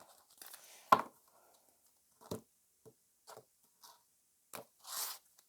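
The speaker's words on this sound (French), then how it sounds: "alors je remélange un petit coup" Tarot cards reshuffled by hand in a quiet room, a series of brief, soft papery riffles and taps scattered with pauses, ending in a slightly longer brushing flutter.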